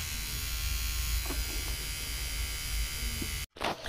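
A small battery-powered electric face trimmer buzzes steadily, cutting off abruptly near the end, then a brief burst of handling noise.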